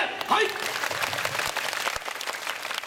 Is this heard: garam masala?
no